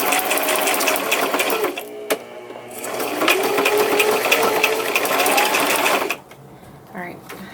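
A sewing machine stitches over a paper sentiment piece for a stitched heart strip embellishment, running loud and close in two long bursts with a brief pause between, then stopping as someone talks quietly.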